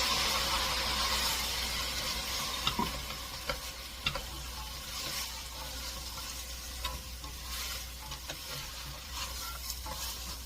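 Radish fries in oil with a little water added, giving a steady close sizzle and bubbling crackle with occasional stirring clicks and a low background hum.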